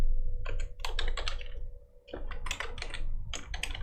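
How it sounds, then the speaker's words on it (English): Typing on a computer keyboard, a close rapid series of crisp plastic key clicks in uneven bursts with a short pause midway, alone without talk. "I'm just going to type in Webflow layouts right here."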